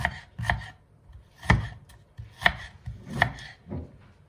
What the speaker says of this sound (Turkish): Doğrarken soğanımızın dağılmaması için tutup doğraması daha kolay oluyor şekilde.